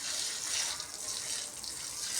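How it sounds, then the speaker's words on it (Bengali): Water poured steadily over a child's muddy feet to wash them, a continuous splashing rush, close and unbroken, with no voices. "এখনো জল দিয়ে ওকে পা ধোয়াতে হচ্ছে"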